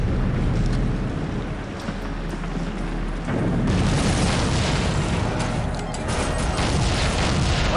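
A flashbang grenade goes off in Soldier of Fortune, a 2000 shooter game, with a loud, dense roar that floods the whole stretch. It surges even harder midway and stays harsh and unbroken to the end.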